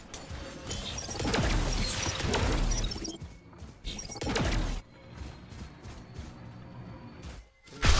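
A grenade blows up in the shooter game Valorant amid crashing, smashing bursts, with loud impacts early, then sparser clatter and a sharp hit at the end, no talk.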